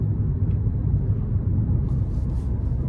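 Engine of a Hyundai Kona Limited with a 1.6-liter turbocharged four-cylinder, pulling steadily under throttle as a dense, continuous low rumble heard from inside the cabin, with no talk over it.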